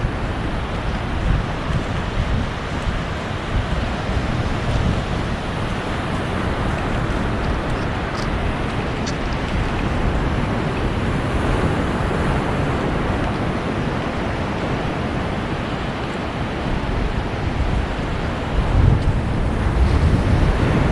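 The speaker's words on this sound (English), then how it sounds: "Those ocean sounds never get old." Continuous roar of ocean surf washing onto Myrtle Beach, broad and steady with wind buffeting the microphone throughout; no voices.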